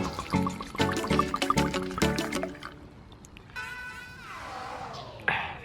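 Liquid pours from a bottle with its cork still in, a gurgling, uneven trickle during a solo woodland camp, starting over clinking and handling sounds and continuing alone with a rising fill tone near the end.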